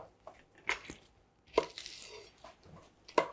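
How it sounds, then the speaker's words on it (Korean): A knife chops perilla leaves into fine strips on a board, giving close, crisp cuts in irregular bursts with short pauses between them. "이렇게 갈라가지고 이렇게 해서 조금 곱게 채 썰어 주도록 할게요."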